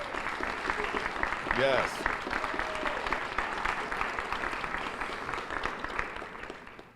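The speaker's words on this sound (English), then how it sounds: "join me in giving a round of applause to the alumni president for Bryan Station High School" Audience applause at a university partnership announcement for a high school alumni president, a steady dense wash of clapping through the room with a brief vocal cry rising above it early on.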